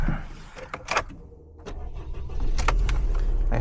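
A Toyota Pixis kei car, a shop loaner, heard up close as keys jangle, a power window moves and the small engine starts, settling into a steady low idle.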